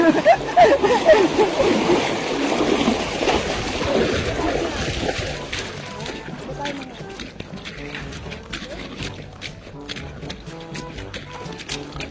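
Someone splashes into cold river water, with loud sloshing and spray for several seconds that then settles into gentler lapping, while excited voices talk and shout throughout.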